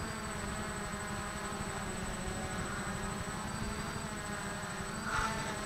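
A 3D Robotics X8 GPS drone descends to land, giving off a steady, loud, buzzing motor hum that holds at an even level throughout, with a faint swell near the end.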